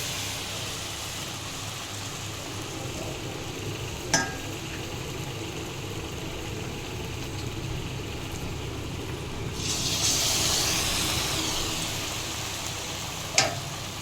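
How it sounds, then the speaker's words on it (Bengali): Battered, stuffed teasel gourd frying in hot oil makes a steady sizzle and hiss, swelling louder for a stretch, with two sharp isolated clicks. "তেল গরম হয়ে গেছে, তেলের মধ্যে ছেড়ে দিলাম।"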